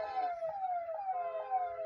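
An ambulance siren wails continuously in a repeating falling sweep, fairly close and steady, while the vehicle sits stuck in a highway traffic jam caused by potholes near Parthan, Navsari, with faint traffic rumble beneath.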